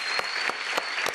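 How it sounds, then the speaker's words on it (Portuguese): Studio audience applauding for the accordionist Sivuca on a Brazilian TV talk show, a steady dense wash of clapping with a few sharper bursts, fairly close and sustained throughout. "Até aplauso pro Sivuca."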